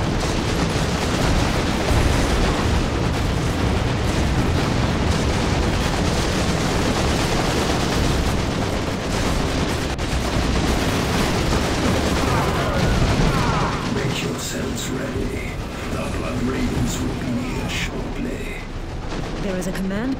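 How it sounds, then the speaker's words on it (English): Heavy gunfire and explosions fill a battle in Warhammer 40,000: Dawn of War II – Chaos Rising, a continuous dense roar of shots and blasts that runs the whole stretch with a voice talking over it. "We are under heavy fire from insurgent forces inside the perimeter."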